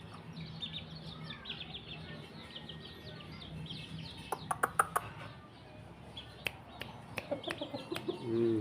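Burmese fighting cocks kept by a rural village household give scattered clucks and short calls over a soft outdoor background, with a burst of sharper close clucks in the second half.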